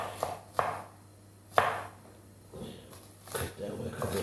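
A knife chopping food on a cutting board while making pasta, a few sharp spaced thuds close by, with someone talking quietly in between.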